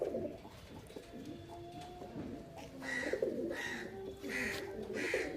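An aggressive pigeon in a Rajasthani Kalmoye pigeon loft in Canning coos in low repeated throaty phrases, close and fairly loud, with faint chirps from other birds around it.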